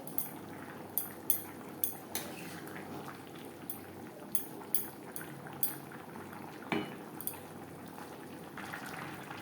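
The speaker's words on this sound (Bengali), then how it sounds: "গ্রেভির সাথে মাছ আরও 3-4 মিনিট রান্না করব।" Bhetki fish curry simmering in gravy in a pan, a steady low bubbling bed with scattered sharp clinks and taps over about nine seconds, moderately close and fairly quiet, no talking.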